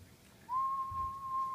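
A steady, pure whistle of dry ice gas forced out past a quarter coin, starting suddenly and holding one clear pitch, close and fairly loud with no voices.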